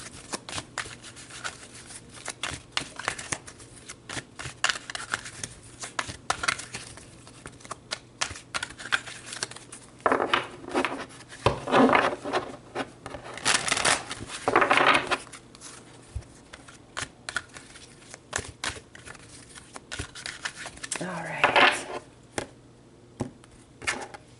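Tarot cards shuffled and drawn close up, a long run of riffling card slaps and flicks in irregular bursts with soft card handling between them.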